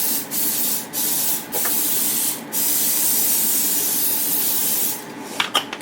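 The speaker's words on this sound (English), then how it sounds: "Just spray the top." Cooking spray hisses from a can in a few short bursts, then one long steady spray, close and fairly loud.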